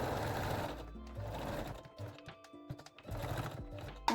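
A sewing machine stitches a seam on Brazilian-style panties in two close, steady runs with a pause between, with short clicks and handling in the gap.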